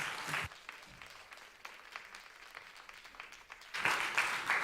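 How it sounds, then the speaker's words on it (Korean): Church congregation applause welcomes a pastor to the pulpit at a conference session, with a short burst of clapping, a quieter patch of scattered claps and murmur, then a louder renewed swell near the end. "크로스처치의 문정혜 목사님 말씀 전하러 나오실 때 감사의 박수로 환영하겠습니다."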